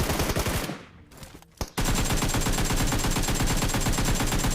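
Rapid automatic gunfire rattles loudly in a battle royale video game, a burst cut by a short pause and a single sharp shot before sustained fire resumes in a dense, relentless stream.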